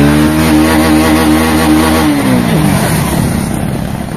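A Hero HF Deluxe motorcycle accelerates hard in first gear, its loud, close single-cylinder engine note climbing steadily in pitch and then becoming rougher and more strained as revs build.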